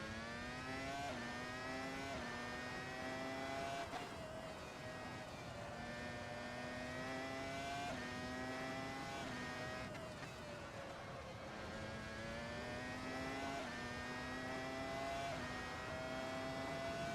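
A 1999 Formula 1 car engine in Assetto Corsa screams steadily at high revs, pitch rising through each gear and dropping sharply at shifts, loud and continuous throughout with no talk.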